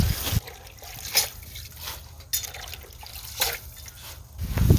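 Water runs into a container for rinsing lettuce, a steady close trickle and splash broken by a few brief louder sloshes.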